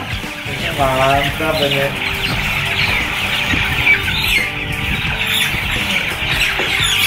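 Chickens cluck and squawk steadily inside a modern chicken coop with a slatted floor, a dense close flock noise throughout, with people talking briefly over it.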